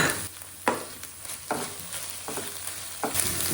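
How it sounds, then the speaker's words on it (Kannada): Butter garlic chicken with coriander leaves frying in a pan, loud and close, with repeated scraping stirs and bursts of sizzle every second or so over a constant crackle. "ಕೊತ್ತಂಬರಿ ಸೊಪ್ಪನ್ನು ಆ್ಯಡ್ ಮಾಡಿ ಒಂದು 5 ಮಿನಿಟ್ಸ್ ಚೆನ್ನಾಗಿ ಫ್ರೈ ಮಾಡ್ಕೊಳ್ಳಿ"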